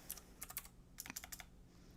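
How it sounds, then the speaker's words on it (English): Fingers tap on a computer keyboard in two quick bursts of light, crisp clicks separated by a short pause, close and quiet with no speech. "I'm typing this into Google."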